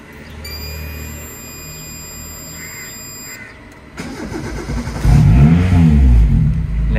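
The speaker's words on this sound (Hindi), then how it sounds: "ले जी बिस्मिल्लाह पड़े गाड़ी स्टार्ट करते हैं" A car engine cranks over a steady idle-like hum with a high whine, then catches and revs up loudly, rising in pitch with strong low rumble toward the end, close by with no talking.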